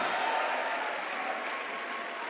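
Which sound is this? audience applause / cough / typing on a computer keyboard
audience applause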